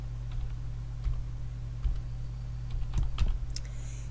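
Keys tapped on a computer keyboard in a quiet room over a low steady hum, soft irregular clicks that cluster more densely toward the end, no speech.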